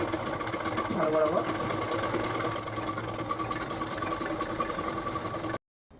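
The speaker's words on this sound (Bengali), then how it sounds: "প্রথমেই আঁচলের দিকটায় সেলাই করে নেবো" A sewing machine stitches a fold along the pallu end of a saree, a steady continuous mechanical whir running close and fairly loud for most of the clip before cutting off abruptly near the end.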